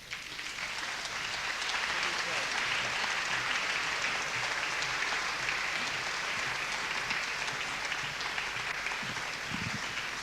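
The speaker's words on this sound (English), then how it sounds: "We are going to greet them with a thunder of applause." An audience at a 1984 Salvation Army event at Butlins Bognor claps in warm, continuous applause, holding a steady level for about ten seconds.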